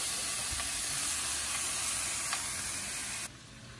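Mushrooms sizzle in a hot pan with a steady, even hiss and faint crackles. The sound holds constant, then drops slightly in level near the end, with no talking.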